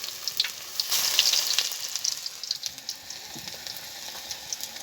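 Pakoras made from leaves crackling as they deep-fry in hot oil, a close, bright, continuous sizzle dotted with quick pops and spits, with no voices.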